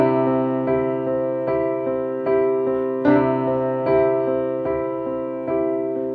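Piano chords repeat in a steady rhythm, shifting quickly between DG and EG voicings, played alone and clearly.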